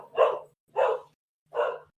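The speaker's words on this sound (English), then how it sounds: "Dog's going crazy." Indoors, a dog gives three evenly spaced barks, each short and fairly loud, with silent gaps between them and no talk over them.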